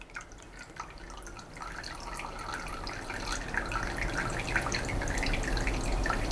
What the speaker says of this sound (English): That is just running and dripping water.